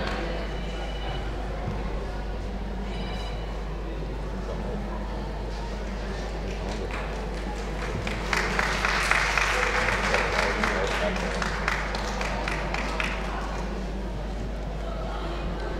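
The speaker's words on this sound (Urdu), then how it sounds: "جب وہ گلدستہ پیش ہو تو آپ لوگ تالیاں بجائیں" An audience at an international seminar at a Lucknow college claps for a bouquet presentation, scattered clapping building into a louder, denser burst over a steady low hum, with faint talk nearby.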